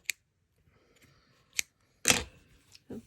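Scissors snip crochet yarn while a wind spinner is finished, several crisp close clicks and cuts spaced apart in a quiet setting.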